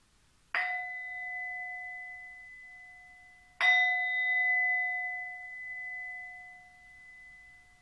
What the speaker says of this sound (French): Et au petit son du gong